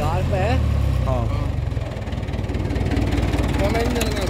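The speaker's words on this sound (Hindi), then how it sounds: "इंजन में दम है भाइयों" The engine of a 1972 International 276 tractor, built in England and hitched to a tiller, idles with a steady, close low-pitched throb while someone talks over it.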